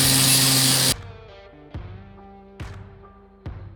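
Tack welding a rust repair patch on a 1978 Ford F-100: a loud sizzling weld burst opens, then three short sharp crackling tacks follow at roughly even intervals over a faint ringing hum.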